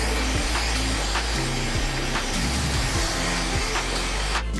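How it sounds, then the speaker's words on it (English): A blow dryer roars continuously at close range, a loud steady whoosh with slight shifts as it moves around. "Now I'm going to go through with my blow dryer and rough it up a bit."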